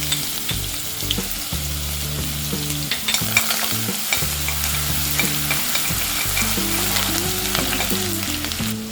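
Cardamom pods, cinnamon and crushed garlic frying in oil in a pan, a continuous crackling sizzle broken by repeated stirring scrapes, close up with no voices.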